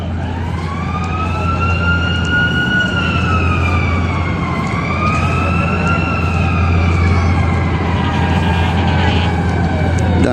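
Fire truck sirens wail loudly and continuously as firefighters arrive near a barge, the rising and falling tones overlapping over a constant low engine rumble.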